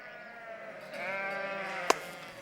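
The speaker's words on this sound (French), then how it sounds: "Va avec les brebis, Isara." A flock of sheep bleats at close range with a sustained, wavering cry in a Pyrenean pastoral setting, ending with a short sharp click.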